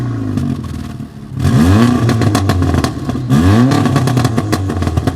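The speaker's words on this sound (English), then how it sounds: "So start the engine again." A Volkswagen four-cylinder turbo car engine revs hard twice, loud and close, each rise in pitch dropping back to a rumbling idle.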